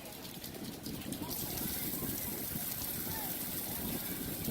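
Water running from an outdoor beach rinse shower in Florida, a steady hissing spray that gets stronger after the first second as the flow is turned up.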